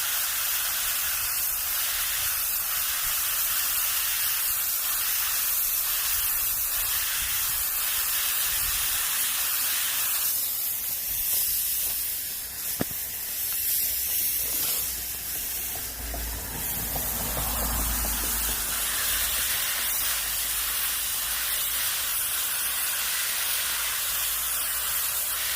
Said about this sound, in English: Okay, let's just rinse it a little bit more.